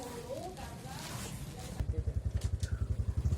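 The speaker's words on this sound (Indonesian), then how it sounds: "manasin motor." A motorcycle engine warming up at idle: a steady, rapid chugging pulse starts partway through and runs close and loud, following a stretch of nearby talk.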